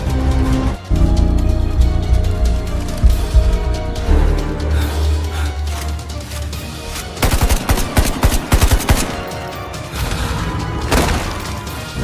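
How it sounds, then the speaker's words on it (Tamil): Gunfire in a Tamil AI-generated short film about robots in the year 2100: loud, close bursts of rapid automatic shots that cluster into heavy volleys midway, with no speech. "துப்பாக்கியால் சுடுகிறேன்"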